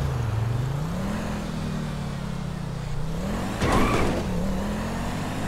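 A Tata Safari SUV in GTA 5 drives toward a water ramp, its steady engine drone rising and falling in pitch, with a brief louder rushing burst near the end.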